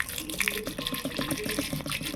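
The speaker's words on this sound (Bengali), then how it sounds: "জলটা দিচ্ছি।" Water pouring from close by into a cooking pan over lentils to wash them, with a steady splashing, gurgling stream for a couple of seconds.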